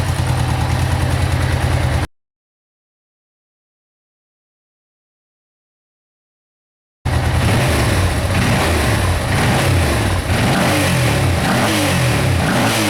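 A Suzuki VX800 motorcycle engine runs after its carburettors are cleaned, loud and close, idling and revving in two stretches separated by a few seconds of complete silence.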